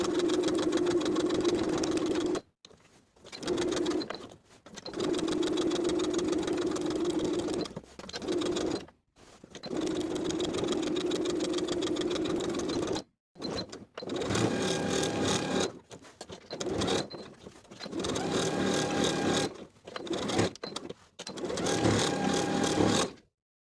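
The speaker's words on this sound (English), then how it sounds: "We're going to top stitch the side and bottom edges of the pockets in place twice." A sewing machine topstitches pocket edges on a jumper, running in long steady whirring bursts separated by short pauses, close and loud with no talk.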